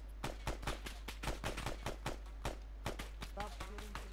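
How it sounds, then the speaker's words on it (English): Rapid gunfire with rounds striking a wall, a fast run of sharp cracks and impacts repeating in quick succession, with voices talking over the shots. "Stop shooting to the goddamn wall."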